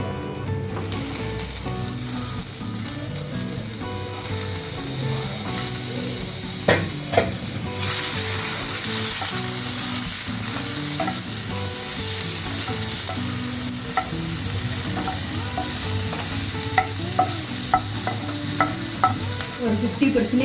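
Chopped onions and tomatoes sizzle steadily in a pan for a veg macaroni pasta, loud and close, with occasional sharp scrapes and clicks of a spoon stirring throughout, no voices.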